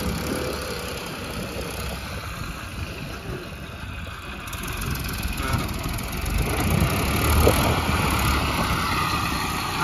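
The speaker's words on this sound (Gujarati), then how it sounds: "ઉમણિયા વધાર થી ટ્રેક્ટર આવ્યા છે" A tractor engine idles nearby with a continuous low rumble that grows slightly louder toward the end, over outdoor background noise.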